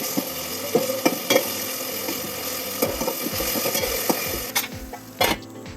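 A spoon stirs ginger-garlic paste into cooked tomatoes in a pan for a Maharashtrian chavali bean curry, with repeated scraping strokes and clinks over a low sizzle, close up and without talk.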